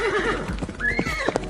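Cartoon horse gives a loud, close whinny with a wavering, rising-and-falling neigh, followed by a few hoof clip-clops.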